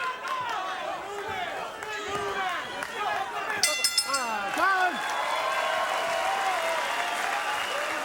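A boxing crowd cheers for both fighters in a late round, a dense wash of applause, whistles and shouting that swells and holds steady under a commentator's voice.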